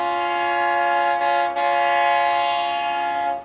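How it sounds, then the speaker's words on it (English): A train sounds a long, loud horn chord as it passes on Mount Washington, the tone dipping briefly midway before fading out. "Another train."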